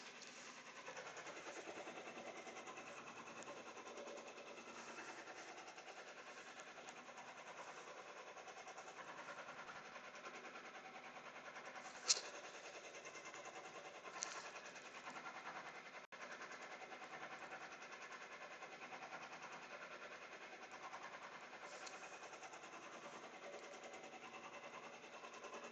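Machine stitching a jacket, a constant faint whirring drone that runs unbroken throughout, with a couple of small clicks along the way.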